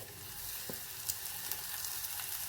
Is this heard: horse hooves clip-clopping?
no